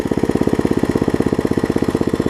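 A 1980s 5hp Briggs & Stratton tiller engine idles low and close, putting out a steady, even chugging pulse with no voices.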